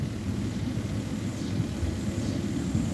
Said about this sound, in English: jets or something coming in,